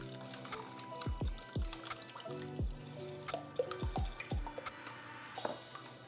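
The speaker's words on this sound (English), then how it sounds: "I'm gonna add in my whole milk and heavy whipping cream." Whole milk and heavy whipping cream poured into a bowl of whisked eggs for a French toast custard, heard as close, quiet liquid splashing with a run of separate drips and plops.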